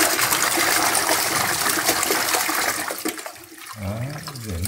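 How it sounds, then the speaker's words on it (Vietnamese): Shelled hyacinth beans being washed in a basin of water, with loud sloshing and pouring, then a quieter swirl and trickle near the end. "Đậu ván sau khi là nhặt sạch vỏ rồi bắt đầu rửa, rửa sạch đó."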